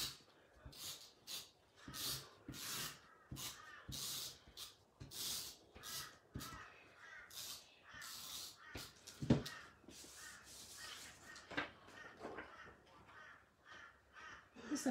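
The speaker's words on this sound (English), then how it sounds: "Listen to those noisy birds." Crows caw repeatedly in a loud, irregular series of harsh calls, several birds overlapping at close to moderate distance, with a few snort-like breaths between calls.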